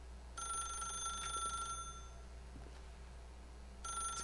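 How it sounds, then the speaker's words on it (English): A telephone in the video game The Stanley Parable rings in two bright electronic bursts separated by a pause, steady and moderately loud over a low background hum. "It's gonna keep ringing."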